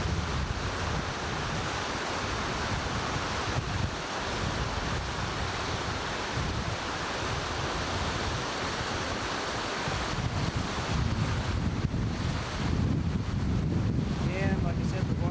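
Water rushes down the fish ladders at the Freeman Diversion dam, a loud continuous roar of falling water buffeted by wind noise on the microphone, steady throughout.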